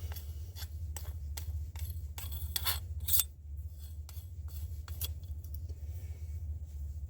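Metal scraping and clicking as the barrel nut is threaded and tightened on a Panzer EG200 shotgun, a series of short rasping turns at a steady rhythm, close up, with a low hum underneath.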